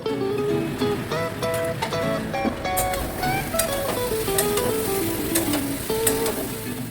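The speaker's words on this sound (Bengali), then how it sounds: "এবার শিল ধোয়া যে জলটা ছিল সেটাই অল্প করে দিয়ে মশলাটাকে ভালো করে কষিয়ে তেল ছাড়িয়ে নেব।" A spice paste of ginger, turmeric and chili sizzles and is stirred in a pan with a splash of water, a moderate crackle running throughout beneath faint voices in the background.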